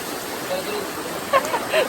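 Jalatarangini waterfall near Maredumilli running at a low dry-season trickle gives a steady, soft broadband hiss of falling water, with faint voices in the background.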